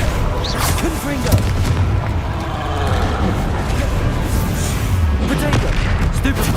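Repeated Confringo fire-spell blasts in Hogwarts Legacy, a dense run of loud booming explosions and crackling bursts filling the whole stretch with hardly a pause.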